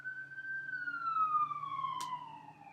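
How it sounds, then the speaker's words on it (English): An ambulance siren in a game, a single long wailing tone sliding slowly downward, moderately loud and steady, with a faint low engine hum beneath and a brief click near the end. "you're gonna hear a siren in a second"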